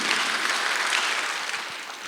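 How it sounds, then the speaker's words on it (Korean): A church congregation at an Easter Sunday worship service breaks into applause, a dense, even wash of many hands clapping together, moderately loud and steady from start to finish, with no talking over it. "박수 한번 하세요"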